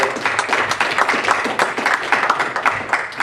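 A conference audience gives a sustained round of applause for a Bitcoin speaker, dense steady clapping from many hands filling the room with no talking over it.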